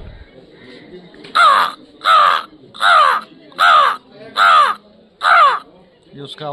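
A human voice imitates crows cawing at a bird festival: six loud, evenly spaced harsh caws, close and alone.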